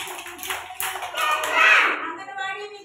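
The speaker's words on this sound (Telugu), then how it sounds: "క్లాప్స్ కొట్టండి." Young children clapping together at an anganwadi, a few scattered claps and taps mixed with a voice, close and fairly loud, fading toward the end.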